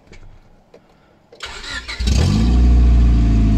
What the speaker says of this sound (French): On va voir si ça fonctionne là, si je peux allumer la voiture